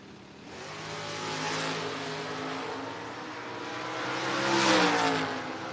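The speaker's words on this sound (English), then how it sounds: "Barton piloting that 5th generation Camaro." A fifth generation Camaro drag racing at a No-Box 660 Shootout, a loud sustained engine roar that swells and climbs in pitch as the car runs down the strip.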